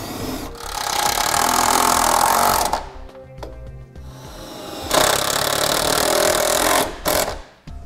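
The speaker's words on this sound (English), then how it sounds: "we're just using an ordinary self-tapping screw to run through our clamp" A power driver runs an ordinary self-tapping screw through a clamp into a vehicle frame while installing a Roadmaster tail light wiring kit, giving loud sustained whirring bursts with a brief pause between them.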